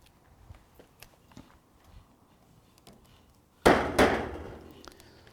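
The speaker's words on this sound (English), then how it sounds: "just a wee tap there to make sure the drill bit doesn't skew off" A single sharp tap of a drill bit into Colorbond steel fence capping, struck near and loud after quiet handling noises, with a brief metallic ring trailing off.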